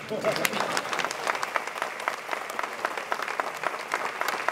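Audience at a Presidential Medal of Freedom ceremony applauding steadily, a dense, continuous clapping from a large crowd with no pauses.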